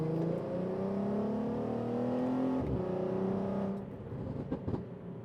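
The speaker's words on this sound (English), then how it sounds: "you downshift a couple of times and you make all that noise" A Skoda Superb 3.6L VR6 engine hums steadily, its pitch climbing as it revs up, then the sound drops and rumbles lower with a few pops on downshifts.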